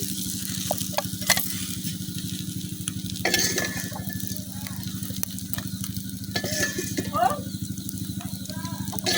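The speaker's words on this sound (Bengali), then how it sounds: "মাছগুলো বাঁধা হয়ে গেছে, এখন আমি উঠে নিতেছি।" Fish sizzling steadily in a kadai over an outdoor fire, a continuous loud frying hiss with occasional clinks and scrapes of a spatula stirring, while a voice talks intermittently.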